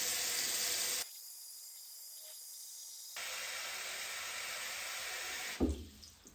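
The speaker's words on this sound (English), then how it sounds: "First, turn off the drainer and turn on the tap." Running tap water hisses into a basin, stops for a couple of seconds, then flows again before splashing and fading; close, no talking.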